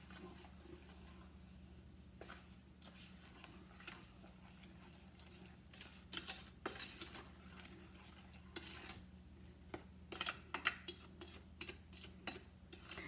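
Sugar and strawberries are mixed in a pot with a spoon, giving intermittent scraping and clinking knocks against the metal, quiet overall with a steady low hum behind and clusters of louder stirring strokes in the second half.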